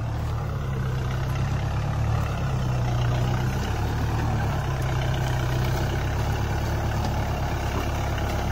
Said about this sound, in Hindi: तो अब भाई ट्रैक्टर कर दे टू व्हील के अंदर।